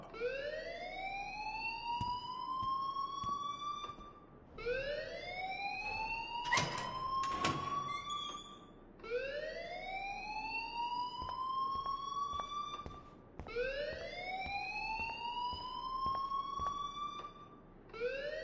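A wailing alarm rings in the Life is Strange video game. Its rising, looping siren tone repeats in steady cycles of about four seconds, fairly loud and continuous, with a short burst of clatter partway through.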